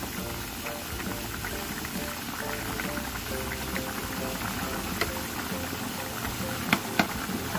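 Potatoes boil in a covered home kitchen pot with a steady, close bubbling and simmering sound and a few faint ticks, with no talk.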